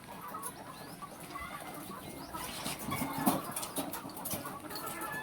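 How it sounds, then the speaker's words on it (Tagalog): Chickens on a poultry farm cluck and rustle at moderate distance, with a busy, continuous texture of scattered calls and no voices. "So, yun ani ang among mga manok."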